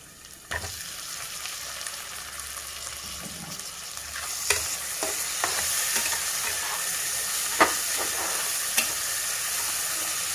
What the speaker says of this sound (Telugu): ఇప్పుడు మనం ఈ టమాటాలు వేసేద్దాము